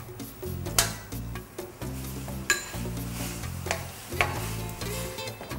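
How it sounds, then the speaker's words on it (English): A pot of Northern Thai spicy chicken soup bubbles on the stove, a continuous gurgling boil with a few sharp clinks of a spoon or utensil against the pot at close range. "So once it gets boiling like this, then we're going to add this chicken wing."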